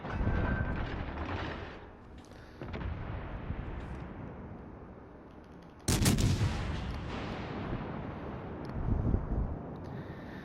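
Big naval guns of the premium battleship California booming in a World of Warships naval battle, with a sharp loud salvo mid-way followed by rumbling decay and further heavy blasts, no speech.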